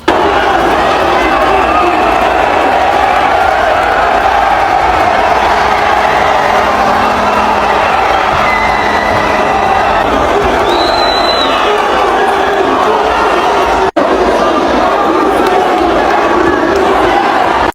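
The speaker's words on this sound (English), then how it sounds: "the arena erupted in applause" A huge arena crowd at a boxing match roars and cheers continuously after the final bell, a loud dense wall of applause and shouting that barely lets up.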